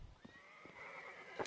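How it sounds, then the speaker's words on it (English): A horse whinnies in the CS:GO Inferno map, a faint drawn-out neigh with a wavering high pitch that follows a few soft hoof clops, heard briefly during match play. "Horse is not happy."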